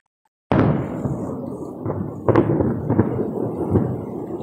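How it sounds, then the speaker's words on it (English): Thunder from a lightning storm outside, a sudden loud crack followed by deep rolling rumbles and a second sharp clap, with no talking. "It's lightning outside, guys."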